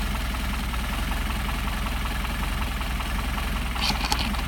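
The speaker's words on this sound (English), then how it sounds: "Right now, running 550 on the RPM, 500 to 550, 525, just bouncing around right there." A Mercedes 190SL engine idles on Solex carburetors at roughly 500 to 550 rpm, giving a steady, close, low rumble with a slight uneven pulse and a brief higher rattle near the end.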